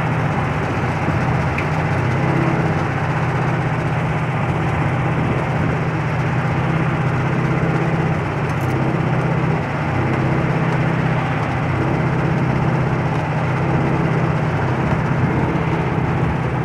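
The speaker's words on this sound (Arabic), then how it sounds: "هذه ماكينة العصير المتحركة كما نشاهد" A motorized sugarcane juice machine runs at a street stall with a loud, steady mechanical drone and low hum that hold unchanged from start to end, with no voices.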